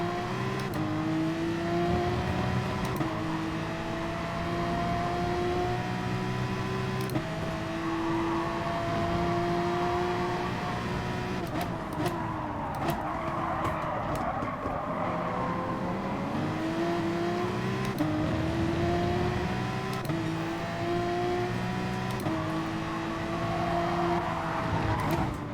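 Racing cars, an AMG among them, hold a steady high engine drone through gear changes in Gran Turismo Sport, with rising and falling revs and brief shifts, loud and continuous throughout.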